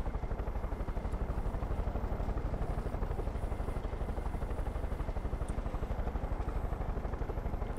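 A helicopter in the video game Far Cry 5 beats with fast, even rotor chops under a steady engine roar, loud and close throughout.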